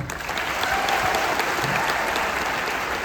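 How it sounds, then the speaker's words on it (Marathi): An audience claps steadily and loudly at a public gathering, a dense, continuous wash of applause that holds for about three seconds with no speech over it. "एकदा टाळ्या वाजवा विचार मंचासाठी"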